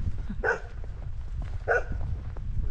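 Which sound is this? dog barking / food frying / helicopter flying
dog barking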